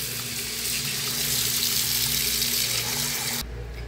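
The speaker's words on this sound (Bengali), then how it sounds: "এখন আমি মাংসটা ধুয়ে নিব" Camel meat is washed under a running kitchen tap, with steady rushing water splashing close by that cuts off sharply near the end.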